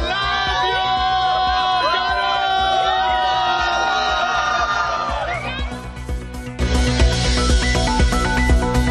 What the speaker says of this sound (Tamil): மும்பையில் உள்ள வீட்டின் முன்பு நள்ளிரவில் ஆரவாரம்.